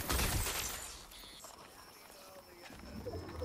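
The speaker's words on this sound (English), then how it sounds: "There's more footsteps here." Faint footsteps from the video game Fortnite patter and thud softly beneath a busy background of game noise.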